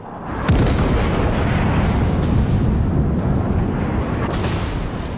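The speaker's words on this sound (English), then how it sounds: "See, his secondary guns are already ripping into me." Secondary guns of an enemy warship firing in World of Warships, a thick continuous rumble of booms with sharp cracks of individual shots punching through, loud and close.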